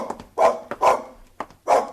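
A dog barks in a 1956 CBS radio drama sound effect: four sharp, close barks in an uneven rhythm, with short yips between them and nothing else heard.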